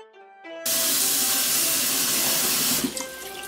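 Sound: rinsing vegetables under running tap water

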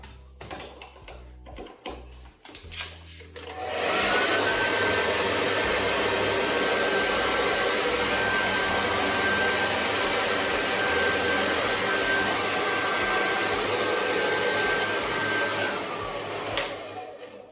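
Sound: hair dryer blowing

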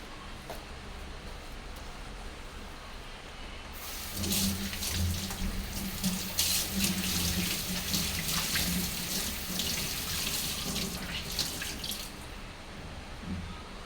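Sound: tap water running while washing dishes at a sink

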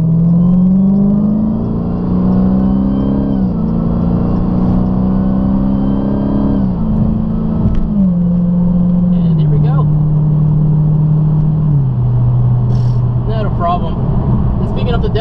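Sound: 2018 Dodge SRT Hellcat accelerating while merging onto freeway

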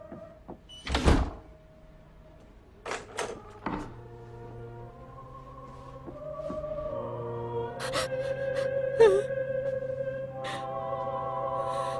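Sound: door being closed and locked

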